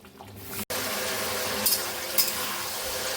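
Carrots and other vegetables for fried rice sizzle steadily in a hot pan, loud and close, with a brief stir clatter early and a couple of sharper spits later.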